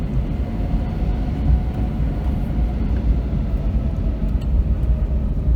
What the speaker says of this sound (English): The plane is just increasing the power to taxi speed.